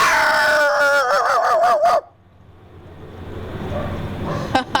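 A person voices a howling, growling dog imitation for about two seconds, then a quiet rustle follows and a short click ends it.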